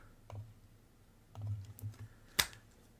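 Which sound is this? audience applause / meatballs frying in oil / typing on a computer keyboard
typing on a computer keyboard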